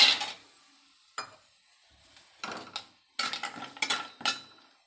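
Cashews roasting in a pan, a series of short scraping, rattling stirs with spoon clinks and brief pauses between them, close up and without any talk.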